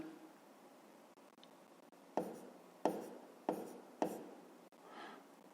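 A pen or pencil writes a number by hand on paper, with soft scratching followed by four distinct, close taps or strokes in a quick, even sequence, and a fainter stroke at the end.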